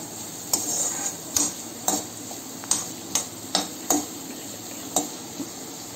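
Onions frying in melted butter, with a soft steady sizzle beneath repeated light clinks and scrapes of a spoon stirring against the pan, roughly every half second.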